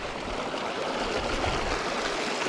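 River water rushing and flowing steadily in the Grand Canyon while hikers wade through it, a continuous broadband wash that stays loud and close from start to finish with no voices.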